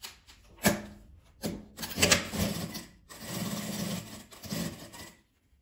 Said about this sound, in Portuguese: Eu vou começar a costurar aqui embaixo e vou dar a volta até aqui.